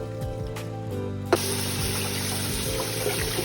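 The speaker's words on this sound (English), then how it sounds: "We now need to drain these and let all of the water wash off them, give them a rinse" Running water rinses soaked cashews as they drain in a kitchen sink, a steady close wash of flowing water with a brief splash partway through and no talking.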